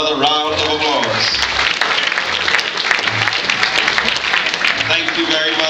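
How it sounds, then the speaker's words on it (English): Audience applause at a brass band concert night, a dense, steady wash of clapping that fills the room throughout, with voices and cheering mixed in underneath. "let's give him another round of applause"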